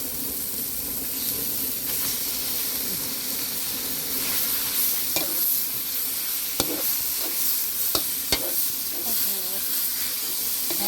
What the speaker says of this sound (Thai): คั่วลงไปเลยคั่วให้หอม ไม่ต้องใส่น้ำมันเยอะ